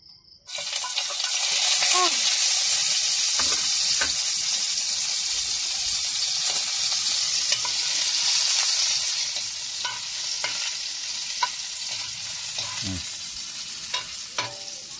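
Garlic frying in oil in a home kitchen pan, a steady bright sizzle running nearly the whole time, with occasional clinks and stirring scrapes of a utensil close by.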